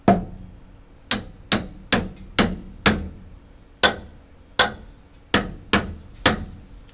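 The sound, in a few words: log clamp tightening with a ding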